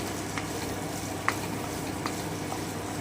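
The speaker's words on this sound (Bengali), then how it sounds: "এবারে আমি উপর থেকে কয়েকটা চেরা কাঁচা লঙ্কা ফুয়ে দিচ্ছি আমি একটু নেড়ে নিচ্ছি" Stirring taro curry in a pan with slit green chilies just added, a steady sizzle with a few soft scrapes of the spoon standing out, close and moderately loud, no talking.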